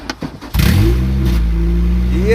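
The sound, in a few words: Honda B20B engine revving in Civic EG, exhaust unhooked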